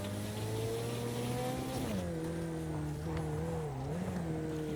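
McLaren race cars revving and racing on dirt in Project Cars, a steady high engine drone that drops in pitch with a gear change, then wavers, continuous and moderately loud with no talking.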